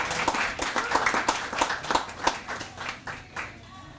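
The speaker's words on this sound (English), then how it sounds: "round of applause for Eric Pellerin" A small audience at a high school poetry night claps for Eric Pellerin, a close, sharp round of hand claps that thins out and fades over a few seconds.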